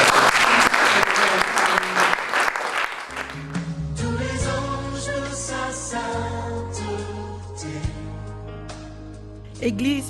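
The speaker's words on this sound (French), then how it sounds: "Est-ce qu'on peut acclamer ça?" A church congregation claps and cheers loudly for a few seconds, then the applause fades under swelling music and a voice.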